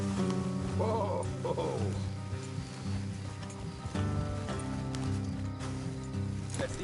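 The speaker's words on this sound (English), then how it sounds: "Let's leave the horses here and go the rest on foot." Horses clip-clop along in Red Dead Redemption 2, a steady hoof rhythm under layered game music and ambience, with a brief voice near the start.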